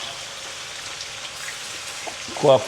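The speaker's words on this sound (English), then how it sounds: "So we're frying the chicken now" Soft, steady crackling and sizzling of chicken frying in a pot, with a brief voice near the end.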